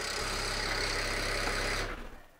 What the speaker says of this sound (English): I'm going to shut the engine off.